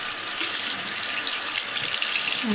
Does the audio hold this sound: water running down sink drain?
yes